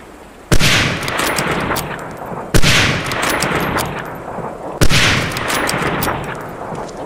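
Three loud, sharp cracks of a Springfield 03 sniper rifle during Medal of Honor: Allied Assault basic training, spaced about two seconds apart, each trailing off into a long echoing tail.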